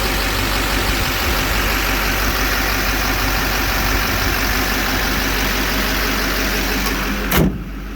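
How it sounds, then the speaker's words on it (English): A 2009 Chevy Silverado diesel engine idles steadily and loudly, a constant low rumble with even texture throughout, briefly broken by a short knock near the end. "So the engine is about the same, it's about 85 dB."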